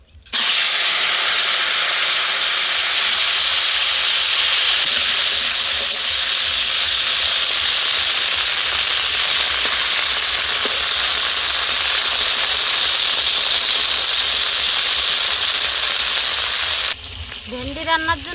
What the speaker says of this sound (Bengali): ভেন্ডিগুলো লবণ মাখিয়ে ভেজে নেব